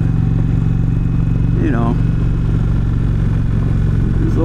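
An Indian Roadmaster motorcycle cruising along with a steady, deep engine drone and wind, constant and close, while someone talks briefly over it.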